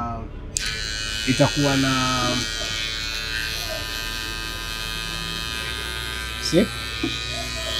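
An electric hair clipper for cutting hair runs with a steady, close buzzing hum throughout while someone talks over it.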